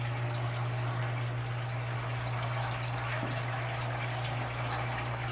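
Water flows through a hydroponic RDWC bucket system that is still underfilled, a steady close trickle and wash over a constant low pump hum, with no one speaking.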